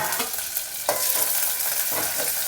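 Onions and cumin frying in hot oil, a steady close sizzle with occasional scraping stirs of a spoon in the pan, no talking.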